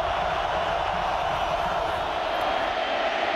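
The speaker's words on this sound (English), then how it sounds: "Now the crowd trying to get in it for the Buckeye defense." Steady roar of a packed football stadium crowd in the Horseshoe, raising noise for the Ohio State Buckeye defense on third down against Illinois in 2007, a broad continuous wash of distant voices with no single cheer standing out.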